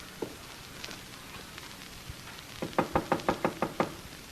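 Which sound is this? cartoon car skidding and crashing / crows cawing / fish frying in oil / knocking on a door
knocking on a door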